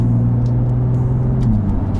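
A BMW M car's engine pulls hard under acceleration, a loud close droning growl that shifts pitch slightly partway through.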